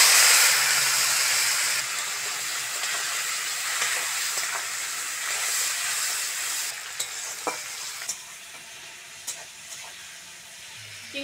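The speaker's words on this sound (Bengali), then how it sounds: "চিংড়িটা ভালো করে ভেজে নিয়েছি" Shrimp frying in hot oil with dry chilli, bay leaf and black cumin, a steady loud sizzle and hiss that fades slightly, with occasional sharp clinks of stirring toward the end.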